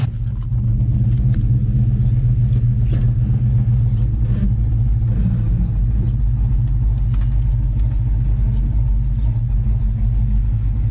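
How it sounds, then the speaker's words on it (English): Nitrous-injected Ford Mustang New Edge pulling away, its engine a loud, close, steady rumbling drone with mild revving throughout, no talk. "I'm gonna take it for a little drive real quick."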